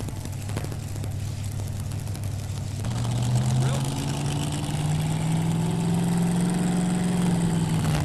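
An Oldsmobile-powered puller at a 1993 farm machinery show tractor pull roars steadily, its low engine note rising in pitch as it pulls, loud and continuous, with an announcer's voice over it.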